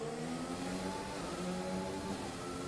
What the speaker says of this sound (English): Strange sound of his engine.